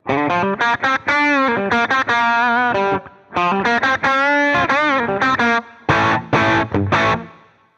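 An electric guitar run through the THU Overloud amp simulator with chorus and added grit plays distorted, sustained chords in choppy bursts, loud and up front, ending in a short burst of stabs.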